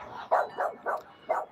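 Dogs bark outside while the neighbours are out, four separate mid-loud barks spaced unevenly across a short stretch, with no talking.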